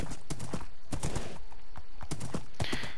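Horse in Minecraft, with hooves clip-clopping in quick uneven bursts close by, loud and clear with no talk.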